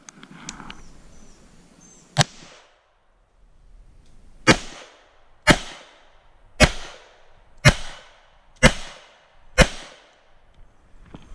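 A Colt Combat Unit pistol fires seven sharp, loud gunshots outdoors, one isolated shot followed by six more at a steady pace of roughly one per second, each with a short echoing tail.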